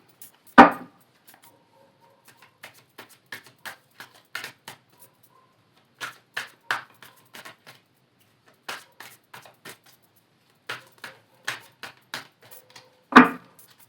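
Tarot cards are shuffled and one is drawn, making a series of crisp, close card snaps and taps in an uneven rhythm. A louder slap falls near the start and another near the end.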